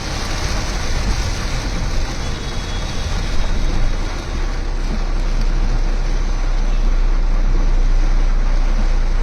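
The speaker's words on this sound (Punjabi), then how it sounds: "ਇਹ ਜਿਹੜੀ ਬਰਸਾਤ ਹੈ ਅਚਾਨਕ ਚਾਲੂ ਹੋਈ ਤਾਂ ਕਾਫੀ ਤੇਜ਼ ਬਾਰਿਸ਼" A sudden heavy downpour in Ludhiana makes a dense, steady roaring hiss with a constant low rumble. It swells slightly louder toward the end, and no voices are heard.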